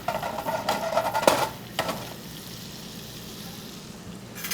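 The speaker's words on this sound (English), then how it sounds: "One is chopped garlic, fresh. We're going to get that barely golden brown." Fresh chopped garlic sizzles in a pan, with a few sharp stirring scrapes and clatters early on before settling into a soft, even hiss.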